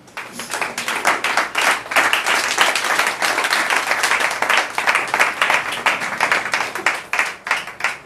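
A church congregation claps steadily and loudly for several seconds, many hands together in a dense, continuous wash of applause with a few faint voices mixed in.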